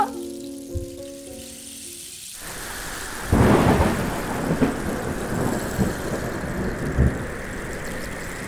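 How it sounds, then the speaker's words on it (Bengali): Heavy rain pours steadily, broken by a sharp nearby thunderclap and a few lower rumbles, after a short stretch of soft music. "এখন ঝড় শুরু হলো বলো তো?"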